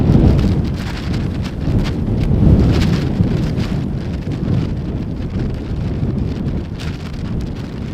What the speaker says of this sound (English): It did start to rain